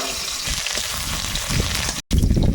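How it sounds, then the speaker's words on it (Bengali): Chopped onion hits hot oil in a wok, giving a steady, dense sizzle that fills the whole stretch, broken by a momentary cut before the crackling returns. "তেলে একটু পেঁয়াজ দেবো"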